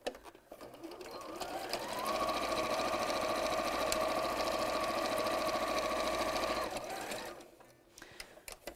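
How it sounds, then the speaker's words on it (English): Sewing machine running steadily as it stitches straight across a bag hem, a continuous mechanical whir lasting several seconds that starts and stops cleanly, close and fairly loud with no talk over it. "And then we're just going to sew straight across there."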